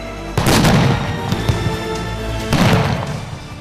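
Two heavy booming blasts of simulated bombing during military training, a few seconds apart, with a rumbling tail between them; loud and outdoor-sounding, no voices.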